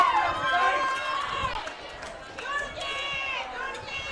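Crowd noise at a high school football game between Lee's Summit West and Blue Springs, a steady mix of cheering, shouting and chatter from nearby spectators that rises and falls throughout.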